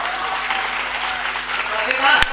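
Applause from an audience at a play school function in Chamba, a steady patter of clapping with a faint tonal hum underneath and a sharp knock near the end.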